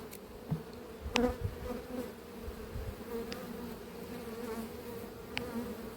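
Honeybees at an apiary colony during a hive split, a low steady buzzing hum with occasional louder bees passing close, quiet overall and without talk.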